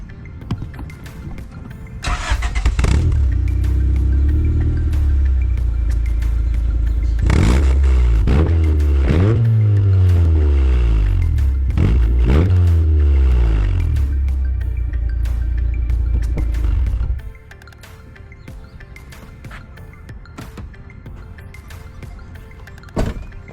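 Honda CRX exhaust with the baffle installed, revving in several loud rising and falling bursts over a steady idle, then dropping back to a quieter idle.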